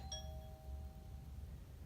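A faint doorbell-like chime rings once from a phone app notification, a short bright ding that fades into quiet room tone, with no talk.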